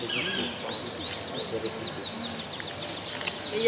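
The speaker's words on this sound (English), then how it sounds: "Well, we got our motmot bird." Tropical birds call continuously at Quirigua's Mayan ruins in Guatemala, a motmot among them, with several high chirps and whistles overlapping in a steady outdoor chorus, moderately loud, with faint background noise and no talk.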